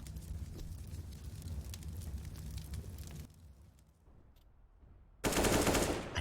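Gunfire from a professional CS:GO match on the Flashpoint 3 tournament map: dense bursts of shots with rumbling impacts, then a quieter lull, then a sudden loud blast of sound at the end.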